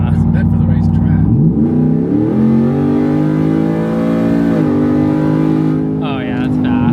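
A 700+ horsepower Ford F-150 race truck accelerates hard from inside the cab, engine note climbing in pitch through a gear change, then easing before a voice cuts in near the end.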